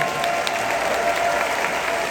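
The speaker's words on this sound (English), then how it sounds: "Let's give them a round of applause." A town hall audience applauds in a steady, dense wash of clapping that holds at an even level throughout, with faint crowd murmur beneath.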